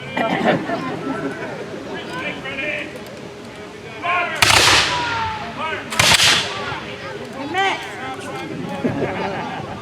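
Reenactors fire period guns at Fort Meigs during a staged battle recreation, two loud sharp bangs ringing out several seconds apart over a busy crowd with people talking throughout.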